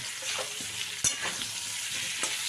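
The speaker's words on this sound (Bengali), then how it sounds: "এবার এর সাথে একটু ভেজে নেব আলু আর কচুটা একসাথে ভেজে নেব" Potatoes and taro frying together in oil for a rohu fish curry, a soft steady sizzle with occasional spatula stirs and one sharp scrape.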